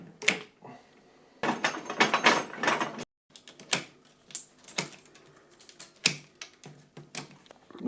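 Willow osier rods being cut during basket weaving: a run of sharp, crisp snips and clicks in irregular clusters, close and moderately loud, with short quiet gaps between cuts.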